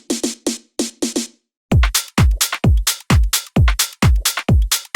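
A punchy house drum loop: a few short hi-hat hits, a brief gap, then a steady four-on-the-floor kick with hats and ride cymbals, loud and dry.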